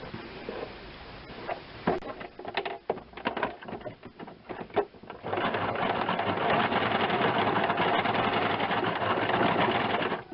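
A standard sewing machine stitching a bird outline freehand on fabric, first with stop-start bursts and handling clicks, then running steadily in a close, continuous whirring rattle.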